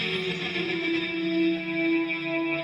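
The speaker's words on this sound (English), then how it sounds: "it's a spring reverb, and it's on full setting." Electric guitar played through delay and a spring reverb set to full with a multi-tap delay, producing a sustained, swirling, echo-laden tone that holds steady and loud throughout.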